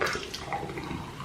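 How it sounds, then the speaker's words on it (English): A skin-care drink pours straight into a cup, a soft continuous splashing trickle that stays faint and steady throughout. "Right now I'm going to pour it straight to the cup."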